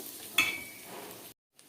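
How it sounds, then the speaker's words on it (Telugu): Ginger garlic paste frying in a pan, a soft steady sizzle with one sharp stir or scrape near the start, ending in brief silence. "ఇది కూడా మళ్ళీ వేయించుకోవాలి ఇది పచ్చివాసన పోయేదాకా కొంచెం వేపుకుంటే సరిపోతుంది"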